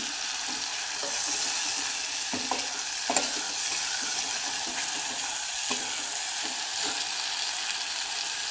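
Curry leaves frying in a ground black masala paste for a Maharashtrian festive amti, with a steady sizzle and occasional stirring scrapes close by, no one talking.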